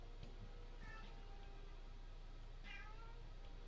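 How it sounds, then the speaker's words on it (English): An agitated pet cat meows faintly a couple of times, once early and once later, over a steady low background hum. "My cat is freaking out."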